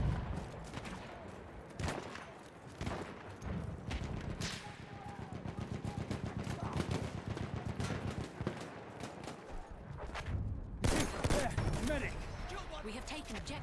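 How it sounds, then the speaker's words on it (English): Battlefield 1 gameplay: bursts of machine gun fire and scattered gunshots crackle in rapid runs across a noisy battle din, loud and close, with game voice lines heard over it. "Spotted a machine gun."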